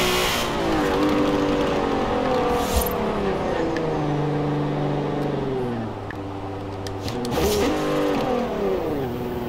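Volkswagen Golf MK4 engine in Forza Horizon 4, droning steadily and loud throughout, its pitch rising through the gears and dropping with shifts, with a brief dip in level midway before climbing again.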